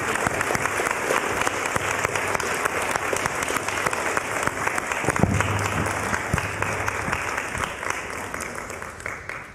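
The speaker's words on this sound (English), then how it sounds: "Can we give them a round of applause for joining the discussion?" A panel audience at a church event claps in a sustained, dense round of applause that carries steadily throughout before tapering slightly at the end.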